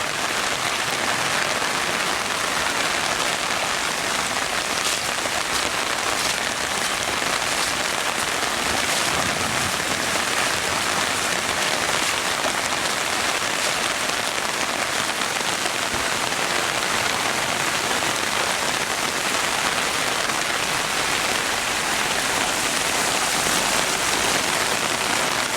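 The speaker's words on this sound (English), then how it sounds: "This is 15 minutes of rain." Heavy rain pours steadily onto surfaces around a place close to flooding, a dense, unbroken roar of drops that stays loud and close throughout with no talking.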